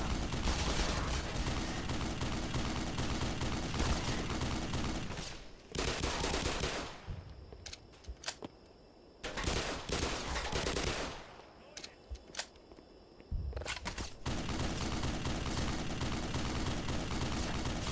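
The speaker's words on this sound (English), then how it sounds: "Can I take that machine gun? Does it work? Yes." Machine gun in a video game, firing in long, rapid sustained bursts separated by short quiet gaps. The fire is loud and close, with no talk.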